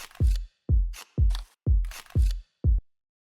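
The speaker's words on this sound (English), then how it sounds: "the next thing that I'm going to show you here are these Foley sounds" Six punchy kick drum hits in a loose groove, each layered with a sharp clicky percussive foley hit, dry and close.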